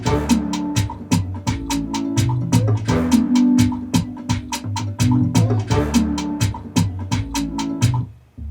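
Deep sub bass from the Sub Boom Bass VST plugin, booming under a full beat for a song with steady crisp hi-hat and percussion hits; loud and continuous for about eight seconds before cutting off.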